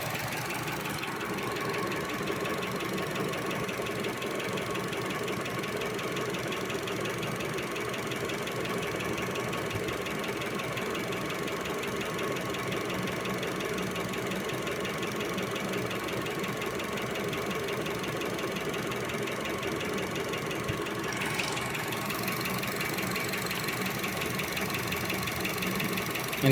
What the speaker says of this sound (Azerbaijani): Dəyişdim, mühərrik işləyir hal-hazırda.